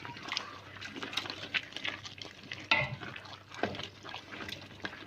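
Mustard greens saag cooks in a pot while being mashed and churned with a wooden churner, giving soft irregular wet squelching and stirring knocks with faint sizzling, close and fairly quiet.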